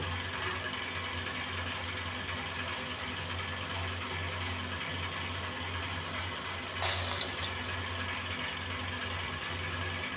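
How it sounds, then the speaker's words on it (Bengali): Urad dal fritters for doi bora fry in hot oil over a medium flame, making a steady, faint crackling sizzle throughout, with a brief clatter of utensils near the end and no voices. "এবার একে একে আমি বড়াগুলো ছেড়ে দেবো ভাজার জন্য"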